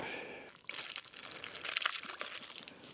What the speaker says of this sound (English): I'm just going to pour them in here with the funnel, fill it up.